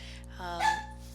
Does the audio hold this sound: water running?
no